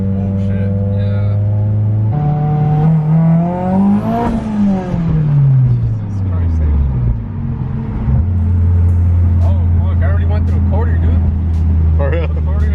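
A 500 hp Mitsubishi Evo X engine revs hard under full throttle, pitch climbing, dropping on a shift and building again, loud and close inside the car while people talk over it.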